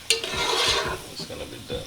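Saltfish and lima beans cooking down in a pan are stirred, giving a close scraping, sizzling stir with a sharp clank at the start and a few softer scrapes after, no talking.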